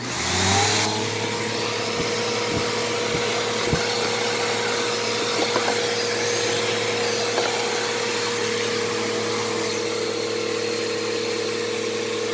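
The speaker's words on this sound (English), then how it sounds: "I can unclog a vacuum with a vacuum." A 12 amp Fantom Fury vacuum cleaner being unclogged with a PowerGroom vacuum, its motor spinning up and then holding a steady loud whine and hum, with a few faint clicks near the start and no talk.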